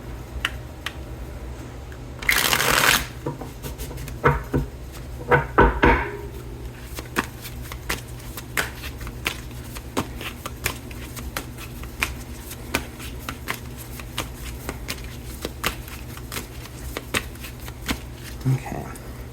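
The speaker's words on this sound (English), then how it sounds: "I'm going to get one more good shuffle here" Tarot cards being shuffled, with a loud riffling burst near the start followed by scattered soft card taps and slides, close by in a quiet room.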